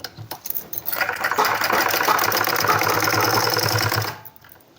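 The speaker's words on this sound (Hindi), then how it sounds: "अब हम पूरे कॉलर पर सिलाई लगा देंगे इस तरह से।" A sewing machine runs in one continuous close burst of about three seconds, stitching around a baby shirt collar, then slows to a stop.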